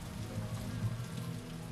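Steady rain from Final Fantasy X, a dense, even patter of drops striking a surface, continuous and fairly close throughout with no voices.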